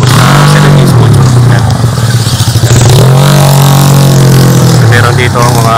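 Motorcycle engines rumble and rev loudly nearby, with rising pitch as the throttle is opened, and voices talking over the engine noise.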